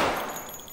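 A grenade goes off in Escape From Tarkov, a single loud blast already decaying into a rumbling tail that fades over less than a second.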